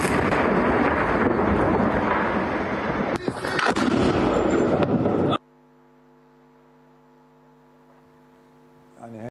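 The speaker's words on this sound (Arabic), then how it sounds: "هذا الفيديو نشره جيش الإسرائيلي وهو تفجير بكفركلة" Explosion in Kfar Kila, a heavy rumbling blast with crackling debris over several seconds, loud and dense, then cutting abruptly to a quiet steady electrical hum.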